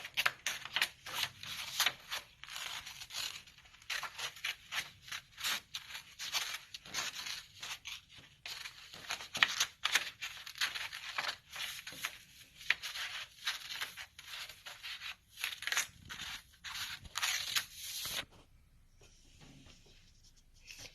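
Scissors cut through paper for a children's craft, a long series of close, crisp snips and rustles in irregular bursts, with no one speaking.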